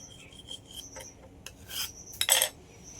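A knife scraping and slicing through layered dough for khasta goja, crisp Bengali fried sweets, giving short rasping strokes close by, ending in a brighter, louder cut, with no talking.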